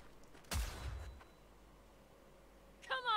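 Gunfire in Cyberpunk 2077 gameplay: one sharp, fairly loud shot burst with a short decaying tail, followed by quiet and a brief second burst near the end.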